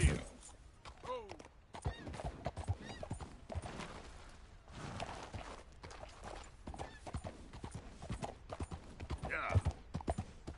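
Horse hooves clip-clopping steadily in the Red Dead Redemption 2 video game, a close, continuous rhythmic trot with occasional snorts, under intermittent speech.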